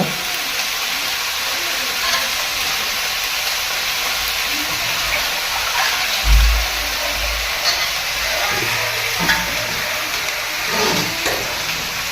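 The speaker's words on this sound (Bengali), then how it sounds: "এগুলো এখন আমরা ফ্রাই প্যানে দিয়ে দিচ্ছি ভাজার জন্য" Pitha filling ingredients frying in a pan at home, giving a steady, broad hiss of sizzling oil with a few soft low bumps from the pan, fairly close and without talk.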